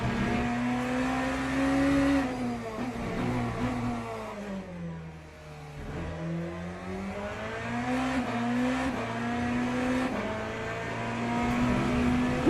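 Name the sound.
BMW race car engine at speed in Le Mans Ultimate video game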